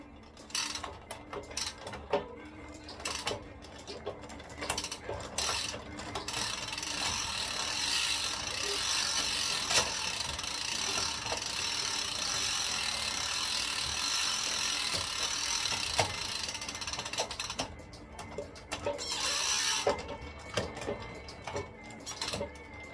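Freshly hot-waxed bicycle chain running through a Di2 drivetrain as it shifts across the gears, a steady mechanical ratcheting whir with clicking shifts and bursts of freewheel buzz near the start and end.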